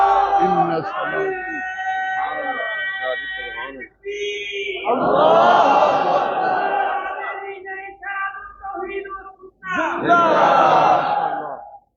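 At a Khatm-e-Nabuwwat religious convention in Multan, a large crowd chants slogans in loud, rhythmic bursts that rise and fall, with pauses between the waves of shouting.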